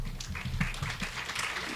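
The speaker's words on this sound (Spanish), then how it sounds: "Le damos un aplauso y una bienvenida a este país" Audience applause welcoming a speaker at a health-technology assessment conference, a moderate, steady patter of many hands clapping at medium distance for a short burst, with no talk over it.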